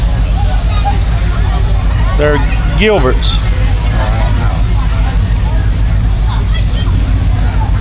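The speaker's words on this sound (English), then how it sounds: "This is a convertible Chevelle." A convertible Chevelle rolls past in the 2016 Wolfe County parade, a steady low engine rumble with constant nearby crowd chatter and a voice speaking over it.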